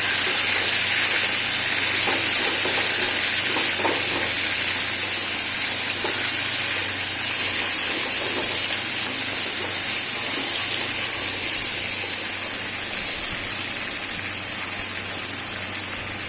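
Chicken pieces sizzle in hot oil in a home kitchen pan, a steady, loud hissing fry that holds constant throughout with faint crackles and no talk.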